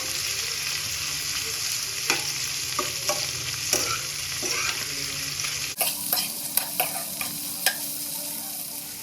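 Chicken gizzards fry in a pan with a steady close sizzle, while a utensil stirs them in repeated scraping knocks.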